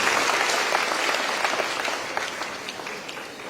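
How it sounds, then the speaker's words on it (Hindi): An audience at a promotional contest speech event in India claps heartily, a dense burst of hands that gradually tapers off in loudness. "जरा एक बार दिल से ताली बजा दीजिए"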